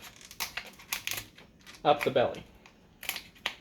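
Kitchen scissors snip through a cooked lobster shell in a series of sharp, close crunching clicks, with a person talking briefly in between.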